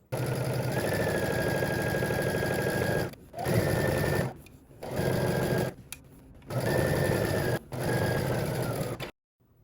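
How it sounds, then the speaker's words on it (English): A sewing machine whirs in several steady bursts of rapid stitching along a seam, separated by short pauses, loud and close, with no one speaking. "Now you're going to head to the sewing machine and we're going to stitch"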